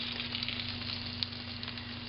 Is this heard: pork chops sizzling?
yes